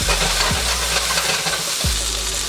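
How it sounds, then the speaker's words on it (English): Ricotta gnocchi searing in a hot pan, giving a loud, continuous close-up sizzle and hiss with a couple of low knocks from the pan, no talking. "We're just gonna lightly sear this so we get a nice little bit of color on it."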